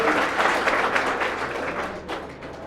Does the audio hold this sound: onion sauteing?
no